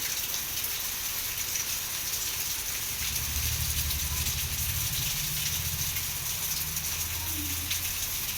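Heavy rain pours down at night in Beed district, Maharashtra, a dense, constant hiss of drops drumming on surfaces with a low rumble underneath, steady and loud for the whole stretch.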